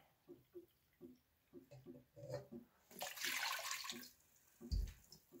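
Vinegar, apple cider or white, poured for sweet pickled eggs: a liquid splash and trickle of a couple of seconds, loud and close, between softer knocks and clinks, with no talking.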